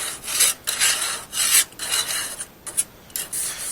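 A grill grate is scraped clean with repeated rough rasping strokes, close and fairly loud, in an uneven back-and-forth rhythm with short pauses between passes.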